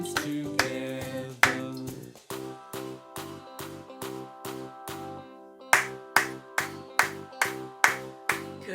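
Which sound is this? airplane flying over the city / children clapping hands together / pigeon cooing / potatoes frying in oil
children clapping hands together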